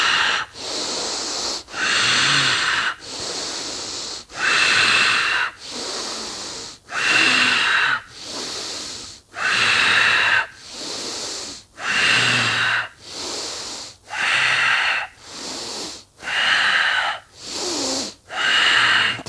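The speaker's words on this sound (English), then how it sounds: "exhale all the air, inhale deeply, hold the breath, power lock" Deep breathing exercise using the tantric power lock technique: close, loud, rhythmic breaths, each forceful inhale and exhale separated by short pauses, repeating steadily with no talking.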